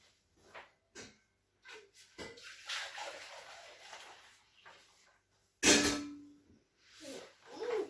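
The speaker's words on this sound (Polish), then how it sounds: "I teraz jeszcze zalejemy to wodą ze solą." Salted water poured over red beets in a jar: short splashes and sloshes with gaps, a sharper, louder pour partway through, and light clinks of glass.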